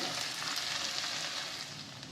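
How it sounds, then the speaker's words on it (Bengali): Chopped ginger frying in hot oil in a pan, a dense, even hiss of sizzling that holds steady and close throughout. "আদা কুচিটা দিয়ে দেব আদা কুচু দুই চামচ আছে এটাও একটু ভালো করে ভেজে নেব"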